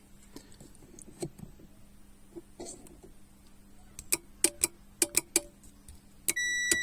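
A treadmill control board's beeper chirps in a quick series of short, sharp electronic beeps with small clicks between them, ending in a sustained tone. The sound is close and clear, with no talking.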